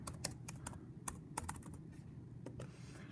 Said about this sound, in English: you're going to type in your name underneath